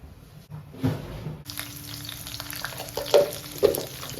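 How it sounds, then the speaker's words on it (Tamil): Mustard seeds and curry leaves frying in hot oil for a Tamil pickle: a quiet hiss at first, then a sudden louder steady sizzle with sharp pops and crackles near the end. "கடுகு கொஞ்சம் பொரிஞ்சோடனே கருவேப்பிலை போடுவேன்"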